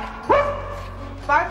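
A person imitates a dog's bark, giving two short voiced woofs about a second apart, close and clear over a low steady hum.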